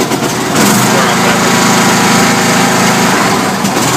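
A riding lawn mower's engine starts with a key and then runs steadily, a loud continuous small-engine drone close by that fills the whole clip without a break.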